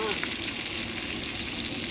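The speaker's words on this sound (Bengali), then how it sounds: "ইলিশ মাছ ভাজা এত টাকার মাছ ভাঙলে কিন্তু একটু মনটা খারাপ হওয়ারই কথা" Hilsa fish frying in hot oil with a continuous, even sizzle for a couple of seconds, moderately loud and close, with no talk over it.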